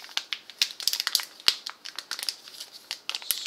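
Close, continuous crinkling and crackling of plastic packaging being handled and pulled open, with one sharp snap partway through and no voices.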